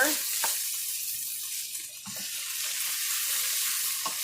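Vegetable and sausage soup cooks in a pot with a continuous soft sizzle and hiss, plus a few faint clinks from close by.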